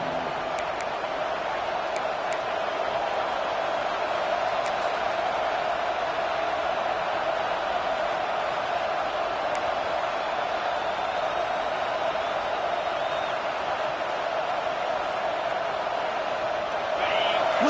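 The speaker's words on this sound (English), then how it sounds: "Listen to the crowd energy here in the early going." Crowd at a Sooners football game early in the first half, a steady broad roar of a large stadium audience with faint whistles and shouts, continuous and moderately loud with no clear talk over it.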